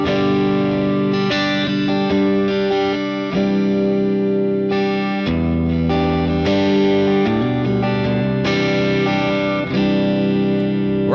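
Electric guitar strummed through a Fractal wide reverb preset set up for worship music, giving sustained, washy chords with a broad ambient tail that ring continuously and loudly, with occasional chord changes and no voices.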